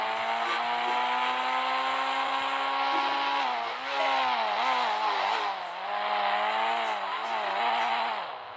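Fire-themed motorbike engine in an Indian video game, a steady loud buzzing drone with rising and falling revs in the middle, running continuously on its own with no talk.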